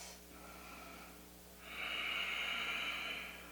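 A single long, deep yoga breath taken close up while hugging the knees in, a quiet airy draw swelling into a sustained rushing exhale over a faint room hum.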